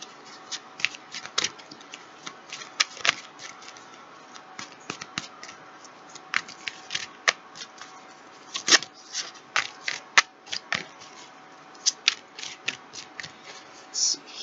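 Tarot cards are shuffled by hand up close, a steady series of crisp, papery flicks and riffles in irregular bursts against a quiet background.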